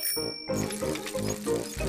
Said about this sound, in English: Daddy Pig is riding Peppa's little bicycle.